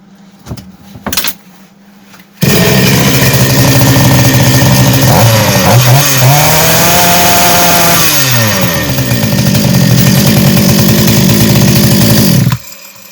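A Goodluck 4500M petrol chainsaw, which starts poorly and stalls, fires up after a few short pulls and then runs loudly and close for about ten seconds with wavering revs, not quite reaching full speed, before cutting off.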